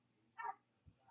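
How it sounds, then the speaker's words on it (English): A single short dog bark or yip indoors, faint and slightly distant, followed by a soft thump, with no talking. "I'm very sorry about the dogs barking"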